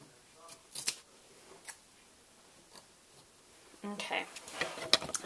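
Scissors snip through excess towel fabric in a few short, quiet cuts early on, followed by denser rustling and clicking of handling nearby.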